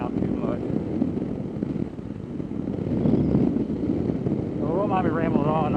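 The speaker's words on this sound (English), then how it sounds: "Take a little short ride with this KPX." A Venom KPX 250 motorcycle on the move, with steady engine drone under heavy, continuous wind buffeting on the microphone and a rider talking over the noise throughout.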